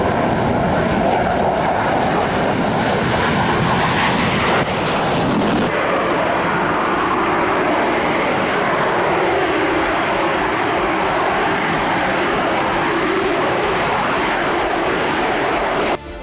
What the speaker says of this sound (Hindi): उसके बाद से ये फाइटर जेट लगातार उड़ाने भर रहा है